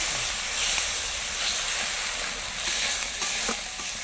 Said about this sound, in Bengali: মশলাটাকে কষে নেব।